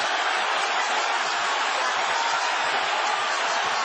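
A roaring boxing crowd in the final seconds of a close last round between Manny and Marquez, a dense, steady wall of cheering that holds loud and unbroken throughout.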